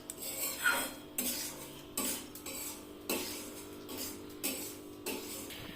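Semolina frying in a pan for sweet singara, stirred with a utensil in a steady series of close scraping strokes roughly once a second over a faint background sizzle.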